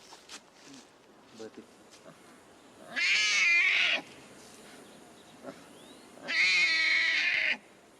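Newborn big cat cubs in captivity mew, with two loud, drawn-out, wavering cries a few seconds apart, close by, while someone talks quietly in between.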